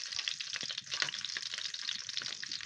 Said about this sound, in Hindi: घी मेरा गर्म हो चुका। अब मसाले डालने लगा।